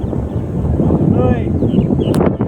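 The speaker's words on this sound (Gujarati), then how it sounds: "હવે ટાટો પવન આવ્યો" Steady wind blowing across the microphone outdoors before rain, a broad low rumble that stays fairly loud throughout, with faint background sounds above it.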